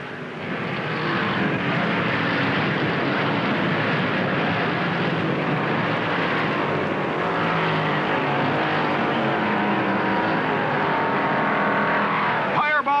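Chevrolet stock cars roar around the track at the 1958 Southern 500, a loud, continuous engine drone that swells as cars pass, with a race announcer talking over it throughout.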